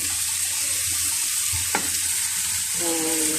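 Mixed vegetables with egg and corn are stir-fried in a hot pan, giving a loud, continuous sizzle with occasional scraping stirs of the spatula throughout.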